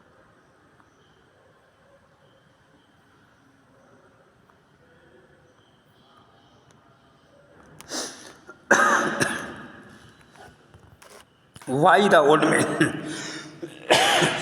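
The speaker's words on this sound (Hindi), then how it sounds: "खांसी की वजह से थोड़ी सी डिस्टर्ब हो जाता है।" An adult coughs and clears their throat in a few harsh, close bursts midway through, after a quiet stretch, with spoken words nearby.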